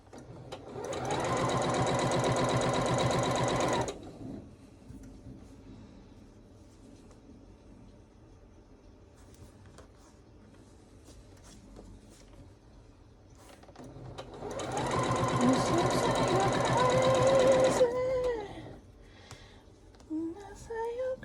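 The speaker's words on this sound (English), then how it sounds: "we're sewing corner to corner right down the middle of the green" A sewing machine stitches quilt blocks corner to corner in two loud, steady bursts of about four seconds each, separated by quiet handling noise.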